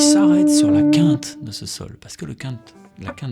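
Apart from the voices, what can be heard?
No distinct noise like a dog, phone or traffic.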